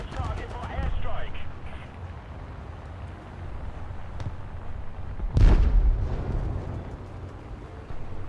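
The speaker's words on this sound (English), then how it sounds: "Request target for airstrike." Airstrike explosions in War Thunder: a steady rumbling battle din, then one heavy, close blast about two-thirds through that booms and slowly rolls away.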